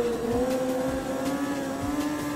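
A motorcycle engine hums steadily and fairly loud during a balance point wheelie, its pitch rising gently as throttle is held, with no talking over it.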